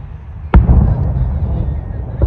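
Fireworks over Magic Kingdom on a cold night boom in a sharp close burst followed by a long rolling rumble, with a fainter second pop near the end.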